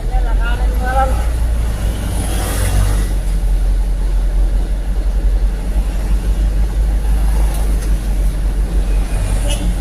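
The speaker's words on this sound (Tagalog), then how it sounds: "Grabe yung traffic dito, oh." Dense roadside traffic in a jam at Lawang Bato, Valenzuela: a constant low rumble of idling and creeping engines, cars and buses, with people talking over it close by.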